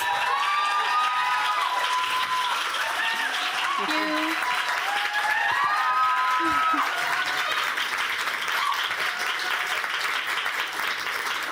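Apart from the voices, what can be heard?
audience applause for a pitch speaker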